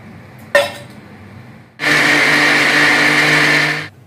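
Electric mixer grinding a spice masala of turmeric powder and roasted tamarind, a single knock followed by a loud close whirring grind that holds steady for about two seconds before cutting off.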